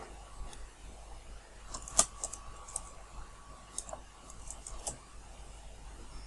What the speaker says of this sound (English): We're going to type in first name.